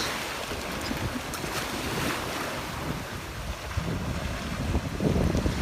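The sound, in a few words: ocean waves and wind on beach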